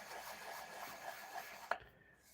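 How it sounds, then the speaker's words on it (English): A seam on a plastic model warship being sanded with 4000-grit sandpaper, a faint, close rhythmic rubbing that ends in a small sharp tap, no voices. "We're just sanding it down with a 4000 just to make sure that it's super smooth."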